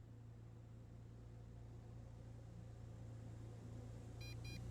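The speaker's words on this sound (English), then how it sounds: "once that beeps and then this answers the beep" Two short, high electronic beeps sound near the end, close together, over a steady low hum, as a drone controller binds with a Holy Stone HS700 drone.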